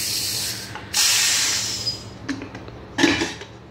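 A pressure cooker holding chana dal is opened after one whistle, releasing a loud hiss of steam that tapers off. Metallic clinks follow, then a second short burst of hissing.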